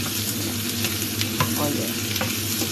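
Carrots and chili hit a hot pan and sauté with a loud, continuous sizzle, with a few stirring scrapes over the steady frying hiss.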